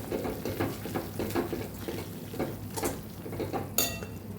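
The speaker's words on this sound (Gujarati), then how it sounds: "સાવ ધીમા ગેસ ઉપર આપણે આ ગોળ અને લોટને સાતળવાનો" Jaggery and flour masala are sautéed on a very low gas flame for kathiyavadi white kantola shak, with repeated soft scraping stirring strokes and occasional utensil clinks, close and fairly quiet.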